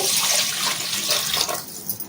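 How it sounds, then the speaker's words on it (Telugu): Water pours into a pot of washed lentils already coated with a little oil, a loud, close splashing stream that fills the pot and then trails off into softer trickles and drips. "ఈ చెమ్ము నిండా వాటర్ పోసేసుకున్నాం."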